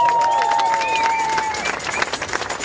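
A large outdoor rally crowd at a vigil in Germany claps steadily, the applause continuous and full with a few whistles rising above it.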